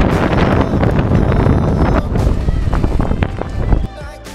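Strong gusting wind on a mountain top in Veggli, Norway buffets the microphone in loud, roaring bursts, with rustling and flapping noise throughout and a sudden drop near the end.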